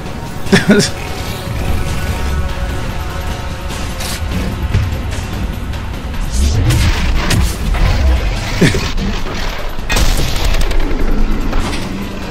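Gunfire and explosions in Mass Effect 3 during a Deep Sea Leviathan mission, dense repeated loud shots and booms throughout, with someone talking over the battle.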